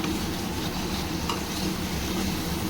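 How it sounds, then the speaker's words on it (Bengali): Spice paste for a koi fish and potato curry fries in hot oil in a pan, a dense, continuous sizzle with faint stirring, loud and even for the whole stretch. "খুব ভালো করে দেখুন কষানো হয়ে গেছে মশলাটা"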